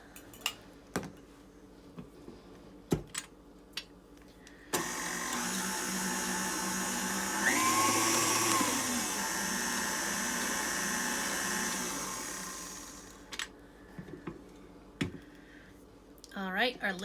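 A mixer blends the liquid ingredients for banana muffins, including mashed ripe bananas, in a steady whirring run of several seconds, bracketed by clinks and handling noises and speech.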